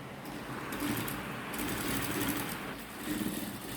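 Sewing machine stitching a seam on a coat, a steady close mechanical whir with short stops and restarts and no talking.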